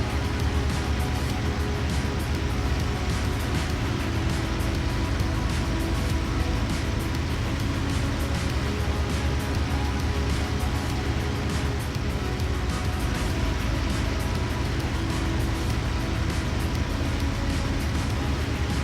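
A piston aircraft engine in the DCS or IL-2 combat flight simulator, throttled back to about 2800 RPM, gives a steady, unbroken droning roar that stays even and fairly loud throughout.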